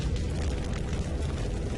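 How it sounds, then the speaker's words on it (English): A rumbling explosion sound effect with a heavy, sustained low boom and crackling debris noise that stays loud for the whole moment, with no voices. "It became the largest explosion on Earth in modern human history."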